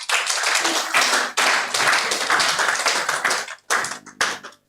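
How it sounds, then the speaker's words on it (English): An audience at a motivational success event claps in dense, sharp bursts. Brief gaps break the clapping before it resumes in shorter spurts and then dies away. "I want you to give yourself another big round of applause."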